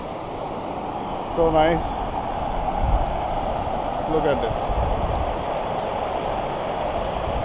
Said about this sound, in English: Can you hear the sound of water?